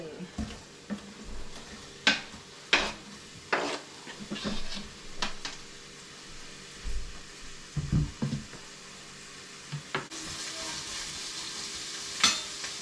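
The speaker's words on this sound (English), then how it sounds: "Alright, onions go in." Sliced onions going into an oiled pan for lasagne, starting a soft steady sizzle under scattered clanks and scrapes of a utensil against the pan, with the frying swelling louder near the end.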